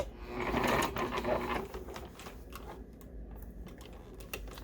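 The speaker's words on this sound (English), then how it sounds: "back stitch to said mark, and then finish my seam" A sewing machine stitches a seam on a pillow with a centered zipper, a brief rapid mechanical whir up close that eases off into quieter ticking and handling of fabric.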